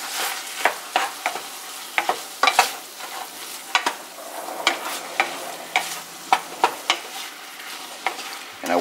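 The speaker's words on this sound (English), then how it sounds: "Then we're going to go ahead and stir all of our ingredients together." Onion and garlic paste being stirred and sautéed in a pan with a pinch of Himalayan salt, for stuffed summer squash: a steady soft sizzle broken by frequent sharp spoon scrapes and knocks against the pan, close and fairly loud, with no talking.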